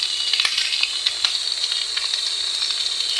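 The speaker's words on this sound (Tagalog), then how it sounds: "Mga talsik mga kabrad. Mantika." Pork fat frying in hot cooking oil, a close, loud, steady sizzle crackling with frequent small pops and splatters throughout.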